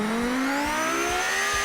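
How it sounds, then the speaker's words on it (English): A Lamborghini engine tuned to 614 horsepower revs inside a car-building video game, its pitch climbing steadily in one smooth, loud sweep with no voices over it. "Yeah, that's a Lambo engine"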